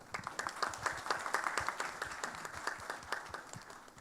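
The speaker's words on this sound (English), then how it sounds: "please join me in welcoming our distinguished panelists with a round of applause" An audience at a civic forum welcoming panelists with applause, a steady round of many hands clapping at moderate distance.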